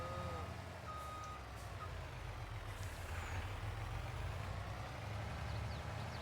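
Reversing beeps from a feed truck backing up to a feed bunk in Farming Simulator 22, a steady, moderately loud pulsing over a deep rumbling engine drone, with a hiss of air brakes and no talking.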